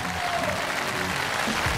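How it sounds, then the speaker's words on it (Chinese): A studio audience at a Chinese TV variety game show applauds in a loud, sustained wash of clapping that fills the whole moment, with a few faint voices blended into the crowd. "让我们掌声欢迎朱时茂老师"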